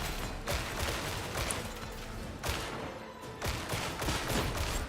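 Bursts of gunfire from an enemy gunner in Warhammer 40K Darktide, a sustained crackling volley with sharper shots at regular intervals, fairly loud and close.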